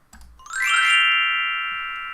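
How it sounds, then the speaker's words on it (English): A single glockenspiel stroke rings out with a bright metallic attack and a long, clean sustaining shimmer that slowly fades, heard alone and close. "Glockenspiel"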